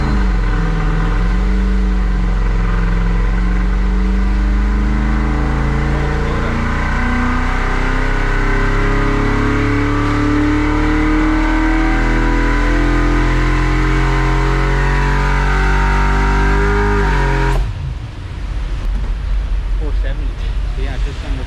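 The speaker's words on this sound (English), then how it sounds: "Okay, so 408 small block Ford, Yeah. and it's carbureted." A carbureted 408 cubic inch small block Ford V8, bored and stroked, revs loudly and continuously for about seventeen seconds with rising and falling pitch, then the engine sound cuts off and leaves a quieter room noise.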